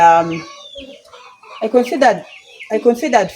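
Chickens cluck close by inside a large chicken house built for laying hens, with a few scattered calls and then busier bursts of clucking toward the end.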